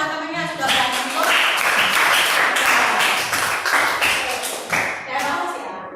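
A classroom of students claps for a classmate, with brisk applause starting after a short pause, holding steady and fading near the end. A voice can be heard faintly beneath the clapping.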